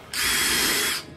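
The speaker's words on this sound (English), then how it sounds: "Pre-drill." A power drill pre-drills a hole in beach chair parts, one brief whining burst of about a second that starts and stops sharply.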